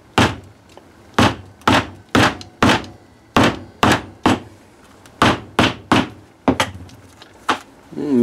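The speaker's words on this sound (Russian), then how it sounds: "Так вот устанавливаем и начинаем постукивать." A hammer taps a rubber bushing into a Lada Niva reaction rod, about fifteen sharp knocks in an uneven rhythm, close and loud, with a brief voice at the very end.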